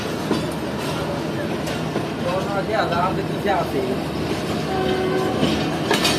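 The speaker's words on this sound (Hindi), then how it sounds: "हमारी ट्रेन ने भी यहाँ से चलना शुरू कर दिया है" Fareed Express train pulling out of a station in Pakistan, a steady rumble of rolling wagons with clattering and squealing wheel sounds, a brief horn-like tone near the end, and people talking faintly in the background.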